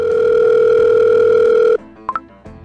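A loud, steady telephone dial tone that cuts off abruptly, followed by two quick beeps and faint background noise.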